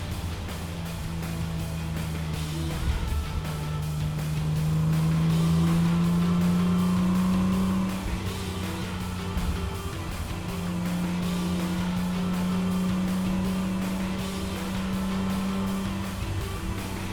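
Porsche 911 cars, including an RWB Carrera, driving on the road at a Porsche show in Queensland, a sustained engine drone with rising and falling revs and a swelling pass in the middle, no talk.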